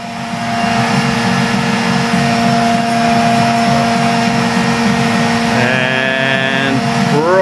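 A CNC machine runs with a quarter-inch end mill, giving a steady, loud motor whine with a constant hum that stays level throughout, and a rising pitch sweep near the end.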